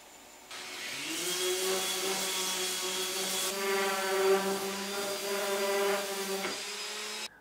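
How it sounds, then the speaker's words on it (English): A belt sander grinds flat spots onto the ends of whisky barrel staves. It gives a loud, steady whining drone that starts abruptly, holds for about seven seconds, then cuts off. "So I'm going to use the belt sander to kind of sand away a flat spot at either end."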